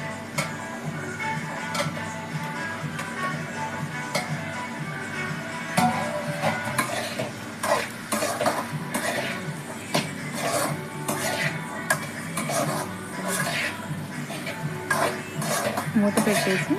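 Carrot pieces being stirred into beetroot curry in a pan, with a spoon clinking and scraping against the metal in irregular taps and rubs over soft background noise.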